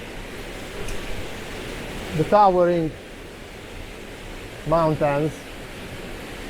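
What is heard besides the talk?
small waterfall on the River Coe, Glencoe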